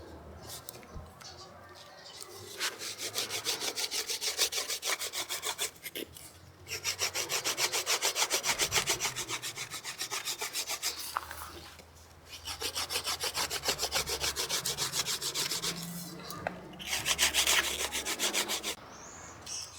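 Steady rasping scrape of a stone rubbed back and forth inside a small recess hole in wood to round it out, in close continuous bursts with brief pauses between strokes, recorded outdoors in the wild.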